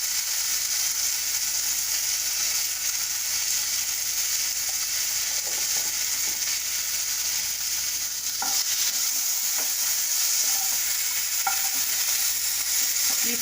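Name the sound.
lotus stem frying in a pan with turmeric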